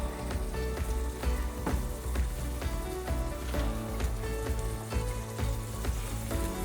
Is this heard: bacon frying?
yes